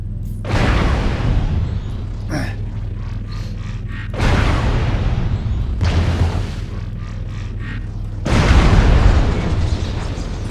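A mech explodes from an ammunition cook-off in the video game MechWarrior Online, delivering three heavy, booming blasts spaced a few seconds apart, each with a rumbling decay, loud and close.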